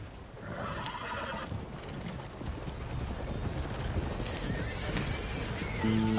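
A horse in Red Dead Redemption 2 gallops with a steady clip-clop of hooves and whinnies, loud and close, with wind rushing in the background and no talk.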